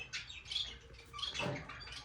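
Soft, quick chirps and twittering from budgerigars, several calls scattered over a couple of seconds, fairly faint against a low background hum.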